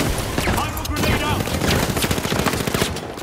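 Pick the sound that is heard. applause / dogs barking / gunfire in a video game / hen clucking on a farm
gunfire in a video game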